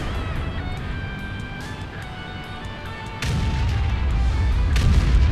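Tank cannon fire from a heavy-tank battle game with AMX 50 120 and IS-7 tanks, a continuous rumbling battle bed with a sharp loud boom about midway and heavier roaring noise after it.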